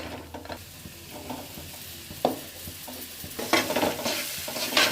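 Potato masala for bonda gets stirred in a pan, a spoon scraping and knocking against the metal in uneven strokes over a low sizzle that grows busier toward the end.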